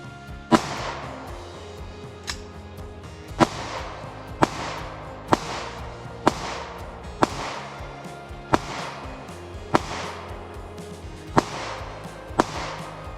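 Hi-Point JXP 10mm pistol shots fired downrange at targets, about a dozen sharp single reports spaced roughly a second apart, each with a ringing outdoor tail.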